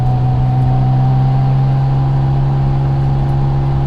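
Rebuilt forged twin-turbo Mitsubishi 3000GT with a 6G72 engine on its first test drive, a steady loud interior drone of the engine and road noise holding an even pitch throughout, no voices.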